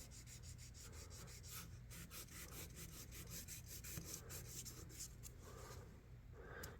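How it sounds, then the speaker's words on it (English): Fine grit sandpaper rubs over the brass liner of a Sabre 529 Grand Daddy Barlow pocket knife being restored, a quiet, close, continuous scratchy rasp in quick back-and-forth strokes. "So I'm just going to try running this fine grit sandpaper over it again."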